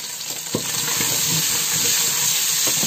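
Tomato paste sizzling as it fries in a pan, a loud steady crackling hiss with a few soft stirring knocks, close and continuous, no talk.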